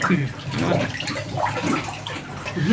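Water is splashed onto a cow's udder before milking, making repeated wet splashes and pours close by while a person talks over them.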